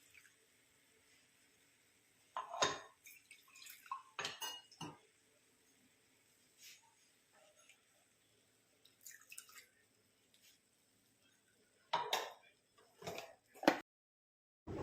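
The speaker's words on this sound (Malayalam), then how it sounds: "ജാറിനകത്ത് കുറച്ച് വെള്ളം ഒഴിച്ച് അത് കഴുകി അതിനകത്തേക്ക് ഒഴിച്ചു കൊടുക്കുക." Water sloshed and poured from a mixer grinder jar into a pan while cooking a Kerala banana flower and cowpea thoran, heard as a few separate splashes and metallic clinks amid quiet kitchen pauses.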